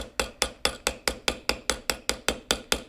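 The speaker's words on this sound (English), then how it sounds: "Hammer it, use the mallet, flatten it out" A rawhide mallet strikes metal wire to flatten it for handmade earrings, landing about thirteen sharp, evenly spaced blows in quick steady rhythm, close and alone.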